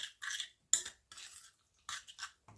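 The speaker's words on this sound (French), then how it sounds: "Puis je mélange le tout." A spoon clatters and scrapes in a bowl while mixing a lentil salad with onion, coriander, lemon juice, salt and pepper, in several short close bursts separated by brief pauses.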